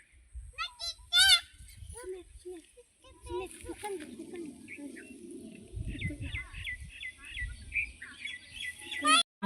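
Village birds chirp and call, with scattered tweets early on and then a steady series of repeated calls, while faint voices and rustling come and go underneath.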